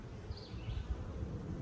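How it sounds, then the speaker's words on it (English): Honey bees swarm around an open beehive frame, making a dense, continuous low buzzing hum that fills the air close by, with no talking. "A lot of bees."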